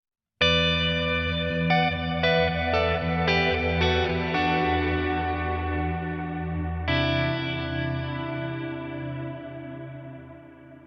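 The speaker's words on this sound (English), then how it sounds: "So it's a beautiful shimmery kind of reverb." Electric guitar chords ring out with a lush, shimmering reverb from an H9 preset that sustains and slowly fades, followed by a final strummed chord washing into the tail.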